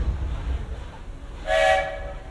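Train pulling into Frontierland Station, a low rumbling roll with a short, bright whistle-like tone near the end, heard at moderate distance.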